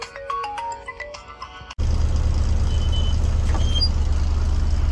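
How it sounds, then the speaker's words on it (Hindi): A phone ringtone for an incoming call plays a bright melodic tune for under two seconds, then cuts abruptly to a loud, steady vehicle engine and road rumble. "अभी अपना फोन आ रहा है, चलो देखते हैं किसका है।"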